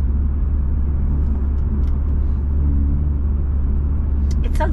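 A car making an odd noise while driving: a steady low engine and road rumble fills the cabin throughout, with faint brief clicks and rattles above it and no talking.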